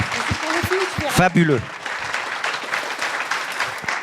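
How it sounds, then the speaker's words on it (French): Audience at a conference session applauding speakers after a moving testimony, steady group clapping throughout, with someone speaking briefly over it near the start. "Je voudrais bien qu'on les applaudisse encore une fois."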